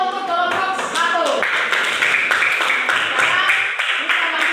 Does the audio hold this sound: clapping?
yes